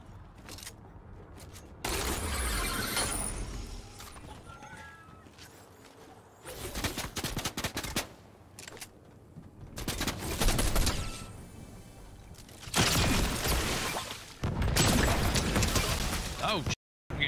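Bursts of gunfire in a Fortnite Zero Build match, several loud volleys broken by quieter gaps, with voices talking over parts of the action.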